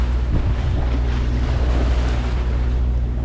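A sailboat motoring through a four-mile channel on a nice day, with light wind on the nose: a steady low engine rumble under continuous wind and water wash, loud and close throughout.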